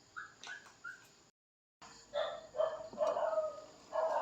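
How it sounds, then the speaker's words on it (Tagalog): A dog barks outdoors while a pot of ginataang tangkay ng gabi simmers in a home kitchen, giving a few sharp separate barks and then a run of louder, busier barking close by. "Ang ingay na naman ng aso sa labas."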